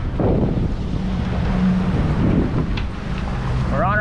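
A sailboat motor-sailing at sea off the Bahamas in rolling conditions, with a loud, steady low rumble of engine and water wash and heavy wind noise buffeting the microphone.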